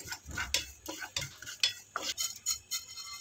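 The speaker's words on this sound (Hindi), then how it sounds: "अब इनको 1 मिनट के लिए भूनेंगे।" Ajwain and cumin dry-roasting in a pan as a spoon stirs them, heard as a quiet run of irregular light scrapes and clinks against the metal, close but faint, with no voices.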